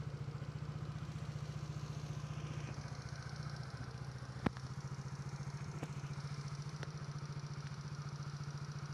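A 2012 Yamaha Mio J scooter engine idles at close range, a steady low putter with a rapid regular pulse and a few sharp clicks over it.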